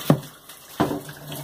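Water is poured during cleaning of an Electrolux LF11 washing machine, coming as two short splashing gushes about a second apart, close by and moderately loud, with no talk over them.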